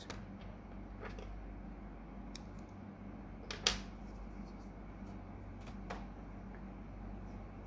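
Scissors snipping crochet yarn, a few faint, brief close cuts with a sharper snip in the middle against a quiet background hum.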